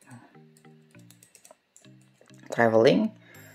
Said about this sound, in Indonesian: boleh diketik langsung